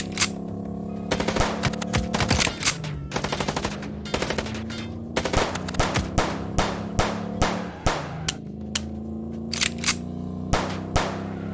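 Gunfire in the Chicken Police video game: rapid bursts of shots early on, then single sharp reports spaced through the rest, loud over a low steady hum.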